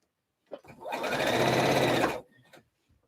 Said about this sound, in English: You can watch me sew again, which I quite like that as well.